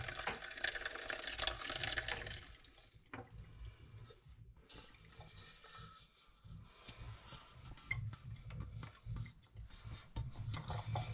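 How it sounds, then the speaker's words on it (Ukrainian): Water pours and gurgles as it drains from pike roe through a sieve mesh, a splashy rush at first that settles into a softer, steady trickle. "зливаємо воду на сито"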